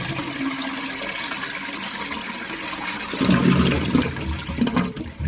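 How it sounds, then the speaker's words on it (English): Water draining from a toilet's plumbing, a continuous rushing flow that swells louder and deeper about two thirds through before easing. "So we're going to drain the system."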